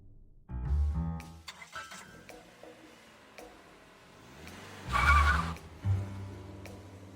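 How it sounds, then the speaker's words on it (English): A car effect in an audio drama suggests a drive along country roads at sunset: an engine starts and rumbles low, scattered clunks follow, then another deep engine surge swells and fades, with no voices. "We drove along some country roads as the sun set over the horizon."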